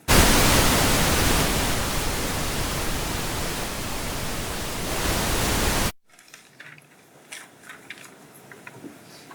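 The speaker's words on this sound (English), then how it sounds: "Put the white noise on" Loud, steady broadband white noise played in a courtroom, a hissing static wash that runs for about six seconds and then cuts off abruptly, leaving faint room sounds.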